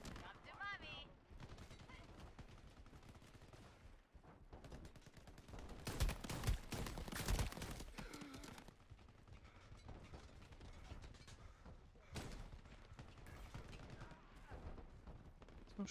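Gunfire from the online shooter Shatterline: bursts of rapid shots, loudest in a dense volley midway, over game sounds and someone talking throughout.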